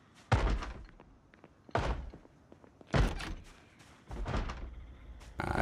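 Repeated heavy thunks and slams of a door in the Project Zomboid video game, five loud impacts spaced about a second apart with rattling tails between, no voices.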